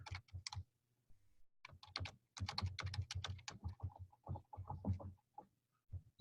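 Keys clatter on a computer keyboard, tab keys among them, in quick irregular bursts of close, crisp keystrokes separated by short pauses in a quiet room.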